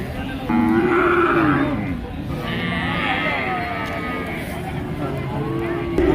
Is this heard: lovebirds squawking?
no